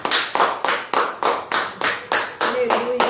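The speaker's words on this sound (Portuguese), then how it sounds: "e a salva de palmas ao Senhor Jesus" A church congregation claps in steady unison for Jesus, about ten sharp, evenly spaced hand claps close by, with a voice faintly joining near the end.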